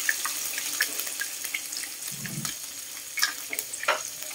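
Water poured into a pan of simmering leftover dinuguan, a brief low splash and gush mid-clip over a steady, fairly quiet sizzle and bubbling with scattered small clicks.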